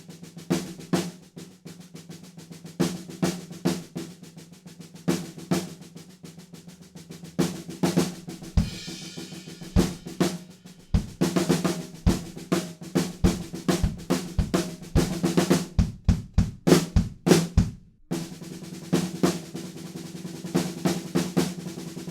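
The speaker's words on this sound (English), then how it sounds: "we break down, and we've got another snare drum accented pattern." A drum kit plays an accented snare drum pattern from a song. Crisp, close snare strokes repeat in a driving rhythm over kick and cymbals, with loud accented hits and a brief gap before the groove resumes.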